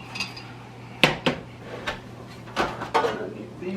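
Metal baking pans for banana bread are handled in a home kitchen, giving a few sharp clanks and knocks at uneven intervals, close and moderately loud against quiet room noise.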